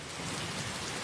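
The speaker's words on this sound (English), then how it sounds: "we'll catch a cold in this rain" Steady, dense rain pours down in a constant hiss, loud and close, with no voices.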